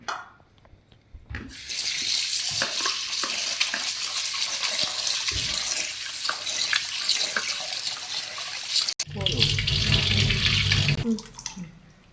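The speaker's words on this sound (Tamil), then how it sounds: "2-3 தண்ணியில் நல்லா வாஷ் பண்ணணும்." Water runs steadily from a tap over meat being rinsed, with rubbing and splashing; a brief pause, then a heavier gush before it stops.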